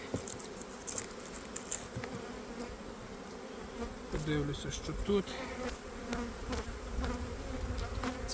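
A dense swarm of slightly chilled honey bees buzzes steadily around a hive being split into nucleus colonies, with a brief murmured voice and some handling noises near the start.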